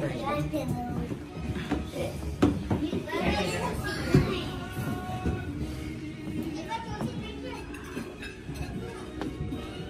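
Children play at a strawberry farm in Baguio, their shrieks, laughter and chatter mixing with adult voices in a busy outdoor scene, continuous and moderately close.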